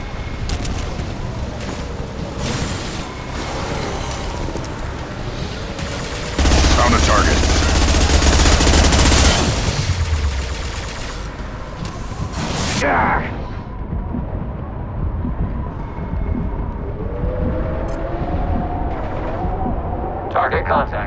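Gunfire in Mass Effect 2 comes as heavy, continuous bursts. A louder roaring barrage builds in the middle, then the battle sound drops away, leaving quieter game effects.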